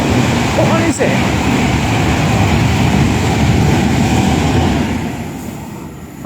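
A Pendolino train passing close by, a loud sustained low rumble and roar of rolling wheels and engine that holds steady, then eases off toward the end.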